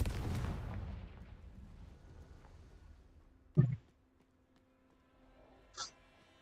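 A Confringo fire spell goes off in Hogwarts Legacy: a loud burst at the start decays into rumbling debris, followed by a sharp pop midway and a smaller crack near the end in an otherwise quiet game scene.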